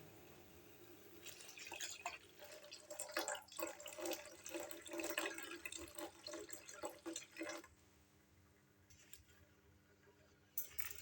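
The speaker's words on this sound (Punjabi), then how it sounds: "ਇਹਦੇ ਵਿੱਚ ਹੁਣ ਆਪਾਂ ਦੁੱਧ ਪਾ ਲੈਣਾ ਵਾ" Milk pours steadily into a pot of cardamom and ginger tea, a close liquid stream with splashing that runs for several seconds before trailing off into faint drips and quiet.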